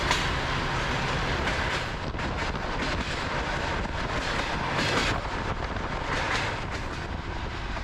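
A passenger train in Central Asia running on its rails near the Kyrgyzstan border, a loud, steady rumble of wheels and carriage noise that continues throughout, with no talking.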